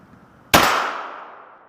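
A single sharp shot from a TNW Aero survival rifle chambered in 10mm, loud and close, cracking out after a brief quiet lead-in and leaving a ringing tail that fades over about a second.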